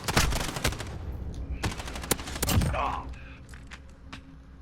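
Origin 12 shotgun firing in the video game Call of Duty Modern Warfare: a quick burst of loud, punchy, rapid-fire blasts followed by metallic mechanism clatter from a magazine change, with a voice talking over it.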